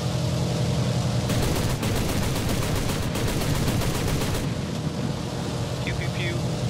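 Rapid aircraft cannon fire from a plane in the War Thunder video game, a steady dense burst of shots over a constant engine roar, loud and close, with voices talking over it.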